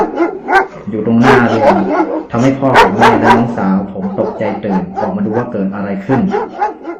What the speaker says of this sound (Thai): เสียงหมาเห่ากระโชกใส่คนแปลกหน้า